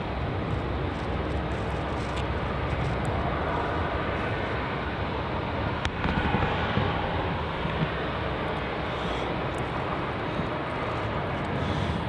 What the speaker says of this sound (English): Landing now, we have Qantas flight QF431 heading in from Sydney. It's another 737-800. About to touch down here on runway 34.